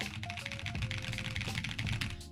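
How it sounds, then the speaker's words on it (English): Rapid typing on a mechanical keyboard fitted with clicky Akko purple switches, a dense stream of sharp close-up key clicks and clacks over about two seconds with a faint background tone, no speech. "That's what a mechanical keyboard sounds like."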